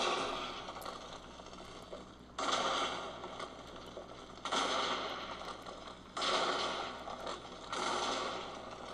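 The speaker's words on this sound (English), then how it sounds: "So it turns out I'm shooting at the creepers right there, so they're blowing up it." Four blocky explosions burst in a Minecraft 1.8 world as a portable rail gun fires at creepers, each a loud crackling boom that fades before the next, spaced about two seconds apart.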